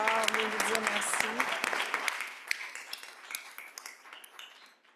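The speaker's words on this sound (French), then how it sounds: "Ces applaudissements reviennent aussi à chacun et à chacune d'entre vous" An audience at a Université Laval community report event applauds, dense clapping that thins out and fades over a few seconds, with a voice speaking over the start.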